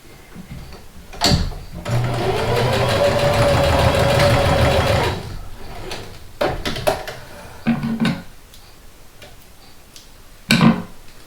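A sewing machine stitches a dart on a stuffed horse, running in one steady rapid burst for about three seconds, then stopping, with a few short clicks and knocks from handling the fabric afterward.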